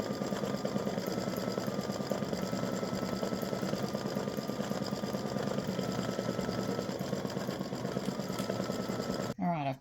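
An embroidery machine stitches a ball design in blue thread for a pickleball pattern, a rapid, steady mechanical chatter running nearly the whole time, with a voice talking over it.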